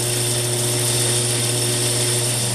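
A metal lathe takes a light cut on square threads, giving a loud, steady machine whine with a constant motor hum underneath, close and unbroken throughout.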